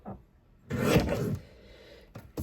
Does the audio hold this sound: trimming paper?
yes